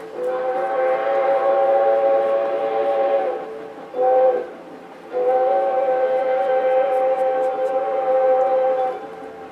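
A vintage historic steam engine tourist train passes nearby, its whistle sounding in long, steady, loud blasts with a brief break and a short toot between them, over the low rumble of the rolling cars.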